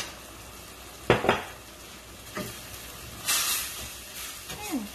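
Sauce of dark soy and sugar sizzling in a pan for ginger and scallion lobster tail noodles, with quiet frying under a few distinct stirring scrapes and light clinks of a utensil against the pan.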